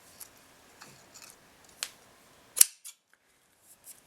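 Scissors snip beading thread in a few sharp, isolated cuts, close and quiet, with soft handling rustles between them and no talk.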